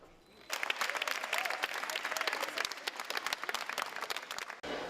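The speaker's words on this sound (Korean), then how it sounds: "아낌없는 박수를 보냅니다" An audience at a creativity olympiad competition bursts into dense, lively applause for students, steady clapping filling a hall for several seconds before cutting off abruptly.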